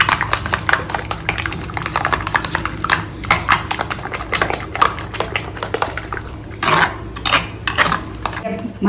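Egg and spinach omelette batter is mixed in a bowl, a fast, steady clatter of utensil taps against the bowl that carries on throughout, close and fairly loud.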